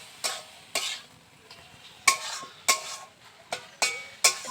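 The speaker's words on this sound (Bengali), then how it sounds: "এটাকে খুব ভালো করে নাড়াচাড়া করে নিচ্ছি" Chicken cooking in a pan for Mughlai paratha filling is stirred with a utensil, giving a series of sharp scraping clatters roughly every half second against a soft background sizzle, close and clear.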